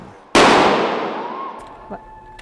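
A single sharp, loud gunshot in an active shooter dramatization, followed by a long decaying echo and a faint ringing tone, with a couple of small knocks afterward.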